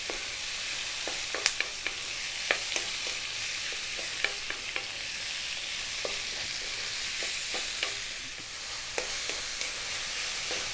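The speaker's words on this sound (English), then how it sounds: "In it goes, nice pork loin. And we're going to go for 4 minutes on a high heat, and we're going to keep moving it all the time" Pork loin sizzles in a hot pan on high heat while being stir-fried and constantly moved, a steady hiss broken by frequent sharp clicks and scrapes of the utensil against the pan.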